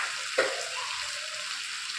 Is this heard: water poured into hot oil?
yes